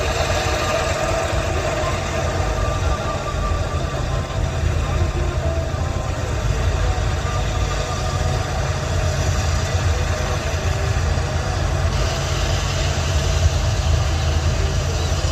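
A combine harvester's engine runs steadily while cutting a wheat field, a loud continuous low drone with vibration that holds throughout, with talk over it.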